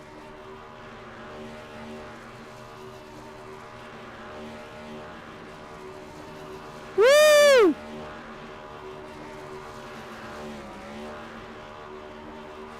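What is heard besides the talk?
race car burnouts in the iRacing video game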